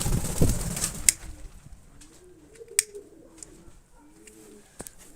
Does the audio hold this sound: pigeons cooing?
yes